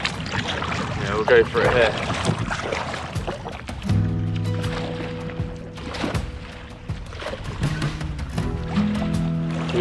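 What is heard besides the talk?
paddling a canoe ashore to a rocky point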